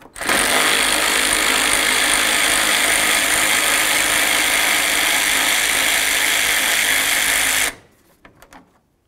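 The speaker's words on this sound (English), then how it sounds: "let's remove this 10 millimeter headed bolt that holds this bracket" A power ratchet drives out a 10 mm bolt on the radiator bracket of a 2007–14 Ford Edge, making a loud, steady mechanical whir for about seven and a half seconds before it cuts off to a few faint clicks.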